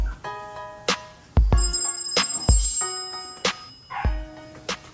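Phone ringtone playing a tonal electronic melody in repeated bursts, loud and close, with sharp dog-like yelps and thumps layered in among the notes.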